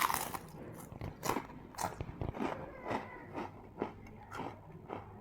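Thick salt and vinegar Big Chips potato chips being bitten and chewed close to the mic, a series of sharp crunches followed by quieter rhythmic chewing, with no talking.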